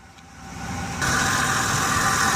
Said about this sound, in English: So let's pop the hood so you can listen to it run.